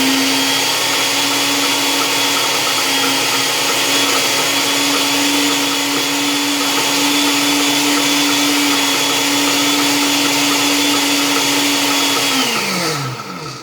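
A kitchen blender whirs steadily for many seconds, blending a marinade with olive oil in one loud, unbroken motor whine that spins down at the very end.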